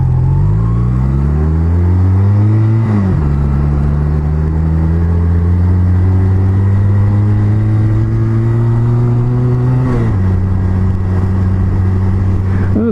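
An old Honda CB250 Nighthawk motorcycle engine drones steadily while riding, loud and close throughout, with its pitch rising gradually under throttle and dipping briefly at two gear changes.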